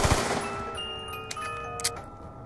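Rapid full-auto pistol fire crackles in a zombie video game, a dense burst of shots at the start followed by a couple of sharp isolated cracks over a steady background tone.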